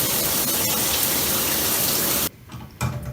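Water sprays loudly and steadily from a shower head leaking where it joins the extension arm, a dense broadband hiss that cuts off abruptly near the end, followed by a brief quieter gush.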